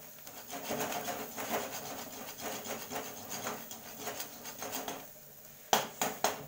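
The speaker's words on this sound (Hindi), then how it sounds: "धनिया पाउडर और हल्दी और चिली मिर्च, इसको भी हम ऐड करके भून लेंगे।" Spices, coriander powder, turmeric and chilli, being stirred and fried with mushroom curry in a pan, heard as steady rhythmic scraping and rubbing strokes with a short pause and a few sharper knocks near the end.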